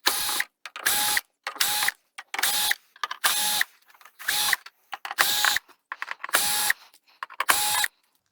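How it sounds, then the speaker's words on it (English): Screws being undone one after another from the back cover of an old 42-inch LG plasma TV, a series of about ten short whirring bursts from a powered driver with brief pauses between, close and fairly loud. "we have about 1 trillion screws to undo around the cover, and the whole cover will come off"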